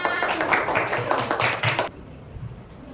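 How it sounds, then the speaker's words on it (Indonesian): A class of fourth-grade pupils at an elementary school claps together in quick, uneven rhythm for nearly two seconds, then stops abruptly, leaving quiet room noise. "Tepuk tangan."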